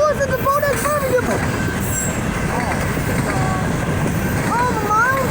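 A train passes a road crossing at Martz Road, a loud, steady rolling rumble with squealing wheels, while people talk close by over the noise.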